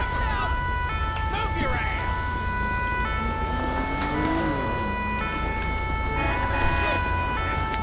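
A fire engine siren arrives in GTA LSPDFR at a highway accident scene near Marseille, with repeated steady electronic tones and rising wails over a constant low engine drone.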